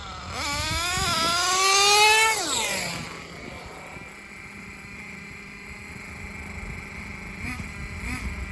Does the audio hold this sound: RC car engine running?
yes